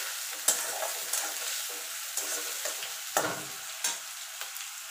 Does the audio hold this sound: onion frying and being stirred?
yes